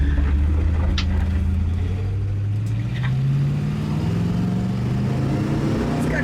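A 1972 Buick GS engine accelerating, its rising tone climbing smoothly as the car pulls away, steady and close, with no talk over it.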